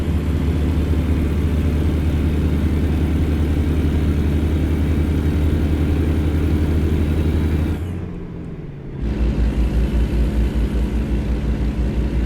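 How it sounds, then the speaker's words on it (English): A truck's Jake brake engine braking in American Truck Simulator: a loud, steady, throaty engine rumble that runs for several seconds, briefly dips and quiets, then returns at full strength, with no voices. "some people have wanted to hear the Jake brake"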